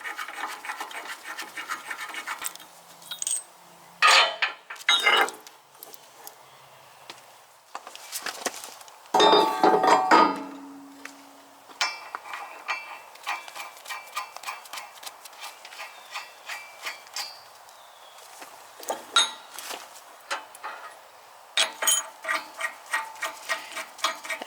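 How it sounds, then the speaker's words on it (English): Bolts on a log splitter wedge are loosened and spun out by hand, giving uneven metallic scraping, clicks and rapid ticking bursts up close in a quiet setting. "once you get them loose, you can just spin them out with your fingers"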